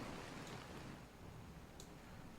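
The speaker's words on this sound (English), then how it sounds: "It's raining now." Steady, soft rain hiss fills the background, a faint continuous patter with no talking.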